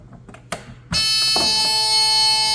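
Buzzer wired to a line on a 110 punch-down block with a LAN connector, a few faint clicks and taps, then a loud steady electronic tone that starts abruptly and holds to the end, close by.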